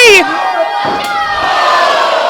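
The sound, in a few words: wrestling crowd cheering loudly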